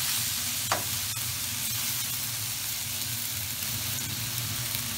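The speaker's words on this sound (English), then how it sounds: "Make sure you constantly stir or toss your wok." Stir-frying in a wok for Mongolian lamb gives a steady, even sizzle and hiss that runs throughout, with a single soft clink of the tossed wok near the start.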